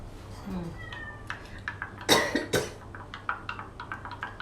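Cats fighting, with yowls and caterwauling rising between sharp hissing spits and scuffling bursts, loud and close, then a string of shorter agitated cries.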